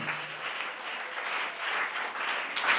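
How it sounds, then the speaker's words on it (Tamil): A congregation at a Tamil Christian sermon claps in steady, continuous applause that fills the space evenly for a few seconds, moderately loud and without talk. "நல்ல கைத்தட்டி"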